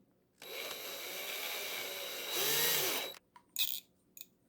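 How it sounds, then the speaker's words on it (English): Power driver torquing screws into an aluminum differential case for a Traxxas X-Maxx RC truck, a steady whining motor run of about three seconds rising at the end, followed by a few short clicking bursts. "Just torque them down."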